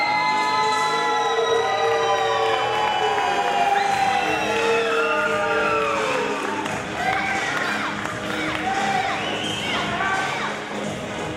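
A capacity crowd at a wrestling show in Pacifica, California cheers loudly, with shrill whoops, whistles and high shouts rising over a dense, sustained roar of applause.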